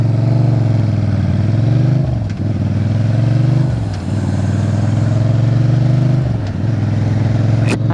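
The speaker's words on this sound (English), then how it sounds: "I don't know if that car was trying to race, 'cause I just heard like engine noise" A car engine revs loudly nearby on a road, rising and falling in pitch over several surges as it passes, steady and continuous throughout.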